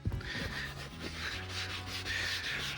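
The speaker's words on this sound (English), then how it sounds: "I'm not using like a foaming type of brush here. I'm just scrubbing a little bit, cleaning up" Brush scrubbing a car seat with diluted interior cleaner concentrate, a close, continuous rasping rub in quick back-and-forth strokes; moderately faint, no talk.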